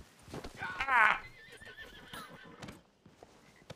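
A horse in Red Dead Redemption 2 gives a loud, shrill whinny near the start, set over ongoing hoof clip-clops and faint background chatter that continue after the neigh fades.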